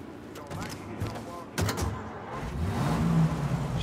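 A car driving in Mafia Definitive Edition, a mid-pitched engine humming and rising in revs toward the end, with people talking over it.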